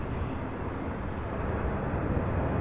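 UPS MD-11 freighter landing at SDF: a steady, dense roar of jet engines, fairly loud and continuous for a few seconds with no talk.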